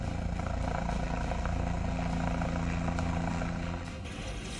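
Helicopter flying over a search operation for militants in Poonch, Kashmir, a steady loud rotor and engine drone holding throughout, then easing slightly toward the end.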